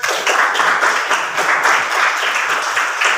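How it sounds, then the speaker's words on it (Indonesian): A classroom group bursts into loud, sustained clapping, many hands in a busy, close patter that holds steady throughout without any talking. "Tepuk tangan untuk semuanya."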